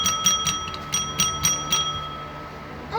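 A street vendor's handbell rings in a quick series of bright, metallic clangs, fairly close and clear, then stops, leaving faint background noise.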